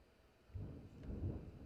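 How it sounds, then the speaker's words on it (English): Thunder rumbling during a storm, heard from a home ham radio station as a faint, low, rolling rumble that swells and fades over about a second, with no talking. "Oh, it's thundering."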